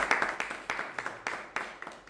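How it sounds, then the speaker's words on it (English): Applause for the staff at a music scholars' masterclass, scattered hand claps in uneven bursts, fairly faint and thin, as if from a modest audience in a hall. "Let's give all those staff a big round of applause."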